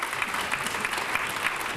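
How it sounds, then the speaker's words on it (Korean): An audience at a February 2013 orientation event applauds steadily to welcome several representatives, with dense, continuous clapping at a moderate level and no talk over it. "우리 박수로 한번 환영 좀 해주시고요."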